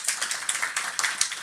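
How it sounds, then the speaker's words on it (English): A short burst of applause, a few people clapping briskly and unevenly for a second or so. "A round of applause for her."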